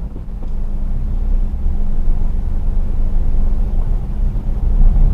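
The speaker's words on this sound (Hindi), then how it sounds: "अभी कार फर्स्ट गियर में," A Maruti Suzuki Celerio automatic car moves off in first gear in drive mode, giving a steady low engine and road rumble with a constant hum, heard close and continuous without talk.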